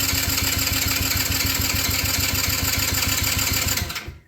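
An engine that sat for over 17,000 hours cranks over on a very low battery, giving a loud, fast, steady churning rhythm close up for about four seconds before it drops off, with no talk.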